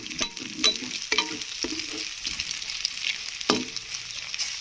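Masala and cashews sizzle in a pan for a bitter gourd dish, with several distinct spoon strokes and scrapes against the pan over a constant frying hiss.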